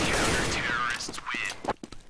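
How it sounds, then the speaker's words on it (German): Gunfire from a Counter-Strike match on de_nuke crackles in a dense, loud burst, then breaks into a few sharper shots as a commentator talks over the action. "Zwei von zwei Schüssen getroffen."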